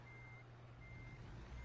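A truck reversing in American Truck Simulator sounds a steady electronic backup beep, two long tones separated by a gap, over a continuous low engine rumble.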